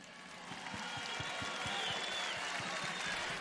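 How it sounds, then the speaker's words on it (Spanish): An audience claps for Rafael Correa, a continuous wash of applause at moderate distance that swells slightly and holds steady, with crowd murmur beneath. "Un aplauso para Rafael Correa."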